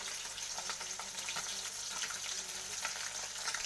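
Spiced grated coconut mixture with chilli sauce frying in a pan for an egg cauliflower curry, a steady, even sizzle with faint crackles and occasional stirring scrapes, fairly quiet, with no voices.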